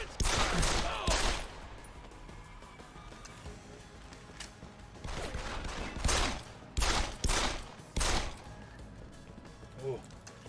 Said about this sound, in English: I hear shots, I just don't see them.